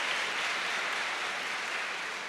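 An audience claps steadily in a dense, even wash of applause that stays constant throughout, with no voices over it.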